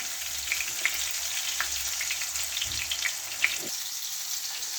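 Fish sizzles steadily in hot oil in a frying pan, a continuous crackling hiss with small pops and spits scattered throughout, close and even in level.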